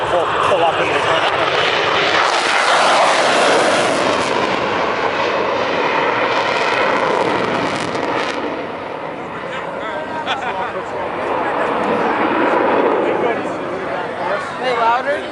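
An F-16 fighter jet taking off and flying by at an air show: a loud, sustained roaring rush that swells, eases, then builds again, heard from a distance in open air with crowd noise around.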